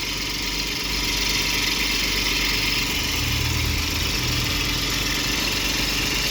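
A Suzuki Jimny JB23 with the K6A three-cylinder turbo engine idles with a steady, close hum and faint vibration, no voices heard.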